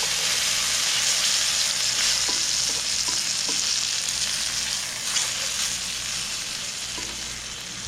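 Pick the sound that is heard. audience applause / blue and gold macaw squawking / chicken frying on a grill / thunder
chicken frying on a grill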